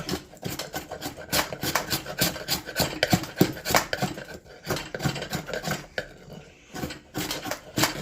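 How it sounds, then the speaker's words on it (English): Bark being scraped and rasped off a piece of wood clamped in a vise, rapid rough rubbing strokes in quick rhythmic bursts, close and fairly loud, with short pauses. "take a little of this bark off"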